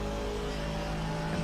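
Onboard engine sound from an Aston Martin race car in a sim racing game: a steady, loud, tonal drone held at a fairly constant pitch through the short stretch.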